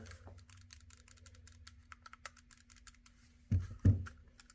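Two quick plastic clicks from the R1 and L1 shoulder buttons of a Retroid Pocket 5 handheld, close and distinct, following faint keyboard-like tapping over a low steady hum.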